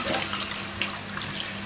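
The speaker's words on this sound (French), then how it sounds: "Ensuite, j'y verse les 25 centilitres de vin blanc." White wine, 25 centilitres, poured into a pan gives a brief, steady liquid splashing with no talk.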